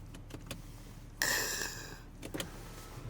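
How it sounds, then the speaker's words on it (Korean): The panoramic sunroof of a BMW X5 (G05) slides open with a short, faint electric motor whir lasting under a second, set among quiet cabin clicks. "파노라마 썬루프는 굉장히 길게 쭉 늘어난 이게 뒤로 빠졌는데 얘는 조금밖에 안 돼요."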